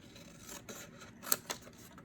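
Scissors cut straight across paper while crafting a paper pumpkin, giving a couple of quiet, close snips and light rustles over a faint background hush.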